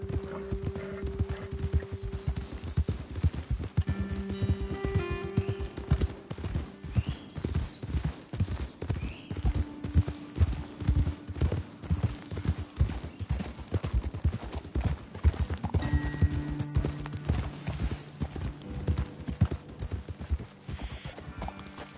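Horses ridden along a hillside trail, hooves clip-clopping in a steady, busy rhythm on hard ground, close and clear with occasional soft snorts and tack sounds over a faint musical backdrop.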